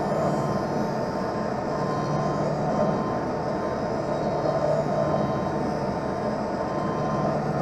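Lens edger grinding a prescription eyeglass lens on its bevel wheel, a loud continuous droning whir with a rough grinding texture that holds steady from start to finish.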